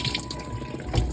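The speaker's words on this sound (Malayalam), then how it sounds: "വെള്ളം ഒഴിച്ചാണ്." Water splashing and trickling at close range in a home setting, a steady tap-like flow with a louder splash near the end, no voices over it.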